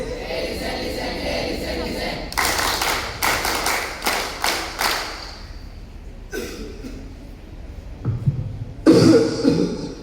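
A series of sharp, harsh coughs in quick succession, close and loud, followed after a pause by a few more coughing bursts.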